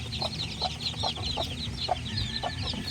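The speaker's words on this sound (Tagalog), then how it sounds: "ang aking 2 days old na mga bagong sisiyo" Newly hatched two-day-old chicks peep steadily in a farmyard, thin high chirps repeating over a hen's low clucking and a constant background hum.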